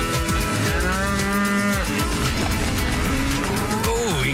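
Cattle moo loudly and repeatedly at close range, long drawn-out bellows over a busy outdoor background on a farm where cattle are being tended.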